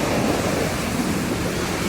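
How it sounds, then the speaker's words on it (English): Ocean surf rushing onto a beach in a strong current at Palm Beach, a loud, continuous broadband roar of churning water close to the microphone with wind buffeting. "The waves are just pouring in."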